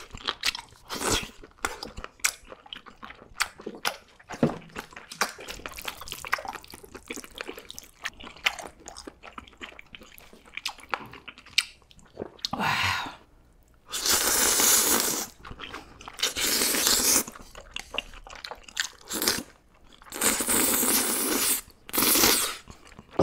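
Close, wet chewing and crunching on a spicy giant octopus leg dipped in onion sauce, with bursts of loud crunches and slurpy bites over about twenty seconds, no talking.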